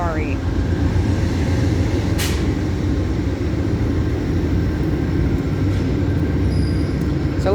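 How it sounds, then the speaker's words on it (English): An Amtrak passenger train rolls through the station at Barstow, California, its heavy low rumble filling the scene loudly and without a break, with brief higher mechanical tones cutting in now and then. "It's the Amtrak train. So those people will be getting on this Amtrak train that is coming through right now. It's going to be very loud,"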